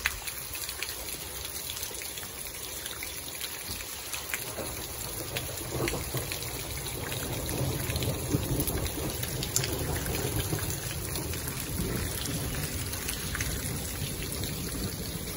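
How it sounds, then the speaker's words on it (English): Rain from a cold-front winter thunderstorm, a steady wash of falling drops and trickling water that swells midway, with low rumbles of distant thunder underneath. "First thunderstorm of 2022, boys."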